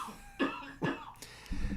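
A man coughs up phlegm: two harsh, close coughs in quick succession followed by a rough throaty clearing, loud against a quiet background.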